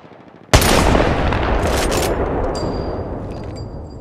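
Gunfire in Apex Legends Mobile erupts suddenly into a loud, sustained burst of rapid shots that keeps going for several seconds with no pause, dense and close.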